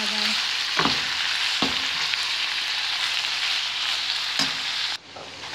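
Lamb liver adobo sizzling and frying in a pan, a steady close hiss broken by a few scraping stirs of the spoon, ending with a sudden drop in the sizzle.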